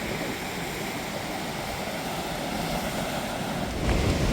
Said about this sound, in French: Mais regardez-moi la taille des vagues qui arrivent là.